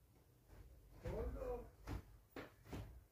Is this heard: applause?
no